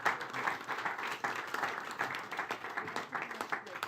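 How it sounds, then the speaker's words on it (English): A talk show audience at a ski race event in Sölden, Austria claps in a lively, continuous burst of applause, close and fairly loud with uneven rhythm throughout. "Give a round of applause for Zrinka Licic and Alexander Steen-Olsen."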